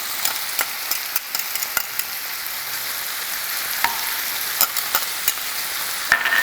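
Onions frying in a pan alongside seared chicken pieces, a loud, even sizzle with a few scattered utensil clicks and taps, close up and with no talk.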